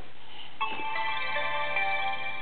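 A mobile phone gives a short electronic ringtone or power-on melody indoors: a bright, tonal chime of a few rising notes that starts abruptly and holds steady for about two seconds, fairly quiet and with no talking over it.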